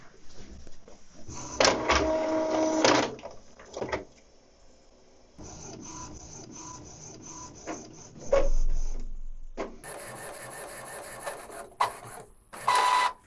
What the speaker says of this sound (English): Now the vertical alignment sheet will be printed.